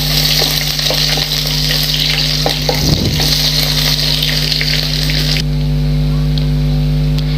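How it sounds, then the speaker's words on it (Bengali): Cumin seeds and chopped onion frying in oil in a home kitchen, a loud steady sizzle held close throughout, joined by a constant low hum and a brief scrape of stirring midway. "জিরেটা ভাজা ভাজা হয়ে গেলে পেঁয়াজ কুচি দিয়ে দেব সামান্য পরিমাণ।"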